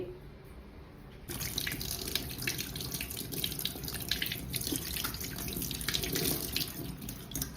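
A tap runs steadily into a sink while a pumpkin is washed before it is cut for halwa. It starts about a second in and keeps flowing at close range with small splashes and drips, and no one speaks.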